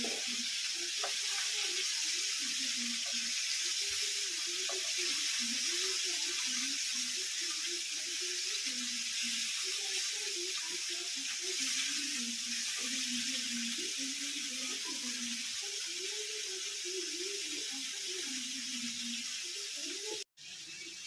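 Fish fries in a pan on a home stove as it is flipped, giving a steady, hissing sizzle that runs throughout with faint scraping and a soft clunk near the end.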